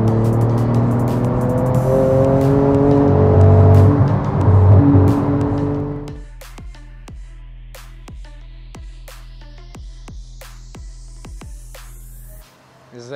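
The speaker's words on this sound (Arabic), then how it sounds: "النهارده هنتكلم على العربيه اللي ليها فانز كتير قوي، العربيه البورش جي تي 2 ار اس" A Porsche 911 GT2 RS engine roars loudly and close for about six seconds, then settles to a quieter, steady drone broken by sharp clicks.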